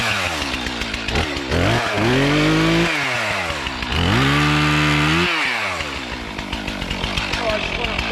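A chainsaw in the woods before a tree is felled, revving up and down in two long high-pitched bursts between rough idling, loud and close.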